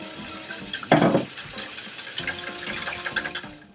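A utensil stirs and clinks in a bowl as yeast mixture is mixed into milk, salt and egg for beignet dough, with a louder scrape near the start and then steady, moderate stirring.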